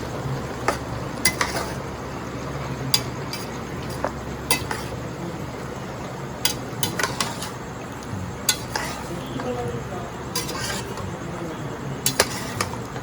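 A spatula stirs pansit noodles and vegetables in a metal pan, giving steady scraping and a soft sizzle broken by frequent sharp clinks against the pan, close and continuous, with no talking.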